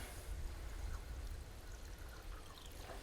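Gasoline being poured by hand into a log splitter, a faint continuous gurgling trickle with a low hiss throughout, no voices.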